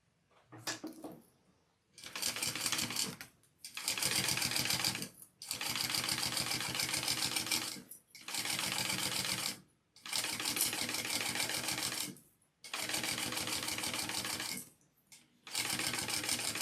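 Sewing machine top stitching along the base piece of a bag, several loud close bursts of rapid mechanical stitching separated by short pauses, with no talk over it.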